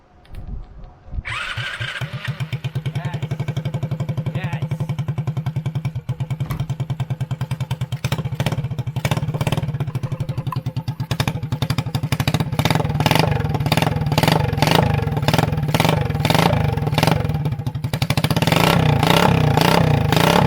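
A rebuilt 70cc Chinese quad engine with no chain fitted starts after a brief crank, then runs with a rapid, rattling idle and repeated sharp revs that grow louder toward the end, close to the microphone.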